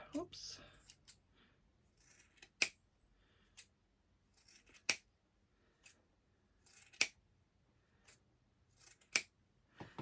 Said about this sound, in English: I'm just going to fold up my fabric here, and I'm going to cut a few strips